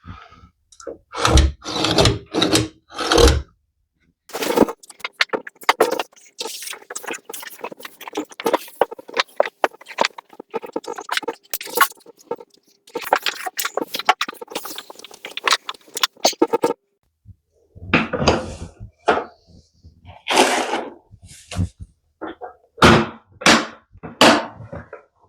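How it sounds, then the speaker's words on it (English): A Bosch multi-tool cuts out a socket hole in a wall, loud and close, running in repeated bursts of a few seconds each with brief stops between. "Just using my Bosch multi-tool to cut this out."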